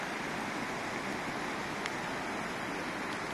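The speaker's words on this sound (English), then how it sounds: "The river is gushing." Sindh River flowing and gushing through mountain terrain, a steady, broad rushing roar that holds evenly throughout without breaks.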